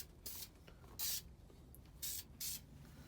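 Four short, soft hisses of a spray can laying coating on a Ferrari 348, each burst about a quarter second long with quiet gaps between, close by against faint background hum.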